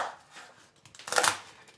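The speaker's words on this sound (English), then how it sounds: "I'm just cutting these in those strips about the same width as the onion" A knife slices dried pasilla chilies into strips on a board, giving a short burst of close, crisp, crackling cuts.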